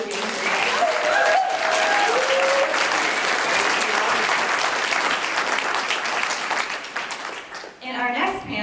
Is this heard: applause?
yes